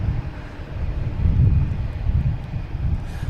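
Lufthansa Airbus A340 airliner at Boston Logan Airport, its engines a steady low rumble that swells slightly midway and stays distant, with some wind across the microphone.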